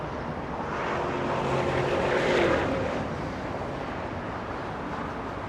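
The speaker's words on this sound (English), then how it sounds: "Dreamliner taking off via the north" A Boeing 787 Dreamliner taking off at LAX, a broad distant jet roar that swells to a peak midway and then eases, heard from afar with wind noise and no talk.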